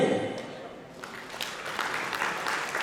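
Applause from a dinner audience at a GhIE annual conference awards night starts faintly and swells after a second into a steady, moderately distant patter of many hands.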